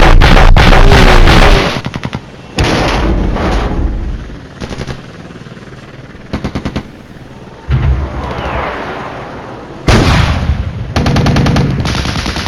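Tank guns and machine guns firing in the Flashpoint Campaigns war game, with T-80 and Challenger tanks in combat: loud bursts of rapid automatic fire and heavy booms, separated by short lulls, with no voices.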